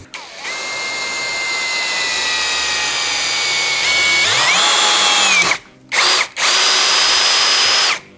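A WORCRAFT CHD-S20LiBAB brushless cordless drill drives screws into a board, a loud close whine that climbs in pitch as the screw seats, then cuts off and restarts in two short bursts.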